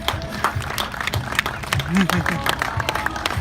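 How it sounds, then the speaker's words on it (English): Audience applause at a sheep show for Harry the Herdwick sheep, moderate scattered clapping mixed with crowd murmur, a voice talking over it and a bleat-like tonal sound in the middle. "let's have a big round of applause for Harry, the herdwig"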